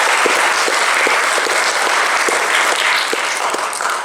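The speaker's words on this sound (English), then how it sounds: "But big round of applause for Josh for doing that." A full audience applauds steadily in a room, dense continuous clapping with a few sharper claps standing out, loud and sustained throughout.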